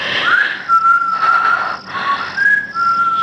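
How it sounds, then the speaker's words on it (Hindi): A shrill whistle blown in long sustained blasts with slight pitch bends, sounding several times with brief gaps, close and loud, as in a night-time scene at a door. "ये वही सीटी है,"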